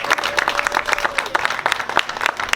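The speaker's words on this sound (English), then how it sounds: "Let's give her another round of applause." Close, energetic clapping from an audience at a diaper drive distribution presentation, a quick patter of individual hand claps repeating without letup.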